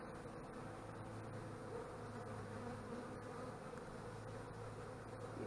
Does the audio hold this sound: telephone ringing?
no